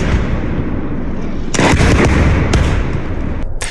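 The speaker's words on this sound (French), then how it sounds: "des images terrifiantes d'une explosion de roquettes" Rocket explosions striking eastern Ukraine, heard as a sustained low rumble with a cluster of sharp blasts and cracks partway through, loud and close, followed by a further crack near the end.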